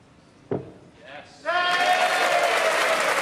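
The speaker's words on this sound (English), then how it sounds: "a little bit of ironic applause there from the crowd" Applause from the snooker crowd at the Welsh Open in Cardiff's Motorpoint Arena swells suddenly after a single sharp knock and a brief murmur, then holds as a steady, dense clapping wash.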